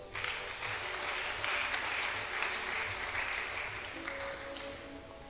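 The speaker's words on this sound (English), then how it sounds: "Clap for Jesus" A church congregation claps continuously, a dense even wash of applause filling the space at moderate level, with a faint tone lingering beneath.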